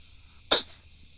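A single sharp sneeze bursts out over a quiet background hum, brief and close.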